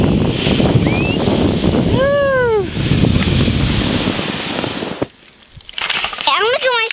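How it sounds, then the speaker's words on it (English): A sled rides down a snowy driveway with a loud rushing wind-like roar as it slides, while riders whoop and shout throughout; a brief quiet moment near the end is followed by more excited voices. "Let's take everybody on a sled ride down the driveway."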